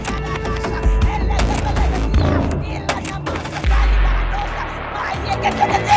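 Gunfire in a film scene rings out as scattered loud shots and bursts amid a noisy, chaotic background, with a heavy thump partway through and a voice briefly heard.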